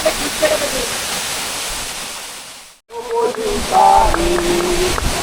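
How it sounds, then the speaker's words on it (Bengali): A waterfall on the Boalia trail in Mirsarai roars as a steady broadband rush close by; after a momentary dropout the torrent continues under faint singing voices. "এত সুন্দর একটা ঝর্ণা"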